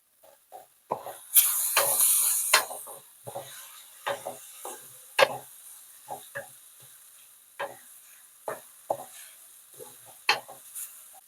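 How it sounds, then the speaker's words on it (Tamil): Tomatoes sautéing in a pan for a vegetarian curry, with a faint sizzle and repeated scraping spatula strokes at an irregular pace, close and alone without talk. "தக்காளி இன்னும் கொஞ்ச நேரம் வதங்கணும்."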